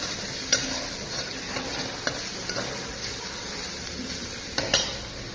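Soybeans frying and being stirred in a pan, a steady close sizzle broken by a few sharp clinks of a utensil against the pan.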